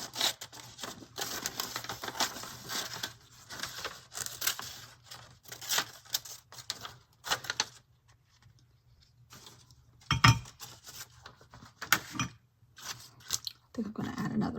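Scissors cut paper material for a mixed media art journal, giving a run of dense snipping and crinkling close up, then a quieter pause and a few sharper snips and handling noises near the end.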